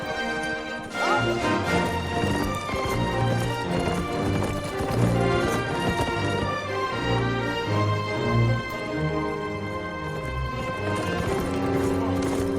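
Rapid clip-clop of hooves from horses galloping, layered under loud music, with a brief neigh near the end.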